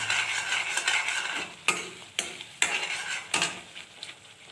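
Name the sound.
stirring biryani gravy in a pan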